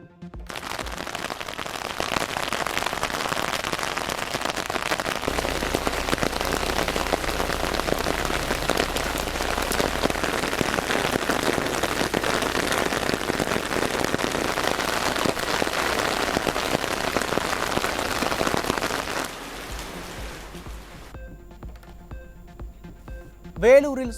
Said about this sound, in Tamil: தமிழ்நாட்டின் பல்வேறு மாவட்டங்களில் திடீரென பெய்த மழை